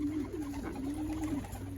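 Pigeons coo outdoors in a low, rolling murmur, several soft overlapping coos close by with steady background ambience.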